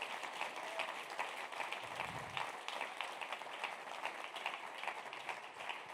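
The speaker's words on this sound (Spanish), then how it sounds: "Dale un aplauso al Señor." Congregation applauding at a church service, a steady wash of many hands clapping at moderate distance, continuous throughout with no clear speech on top.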